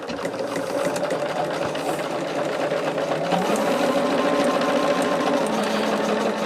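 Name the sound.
sewing machine chain stitching quilt blocks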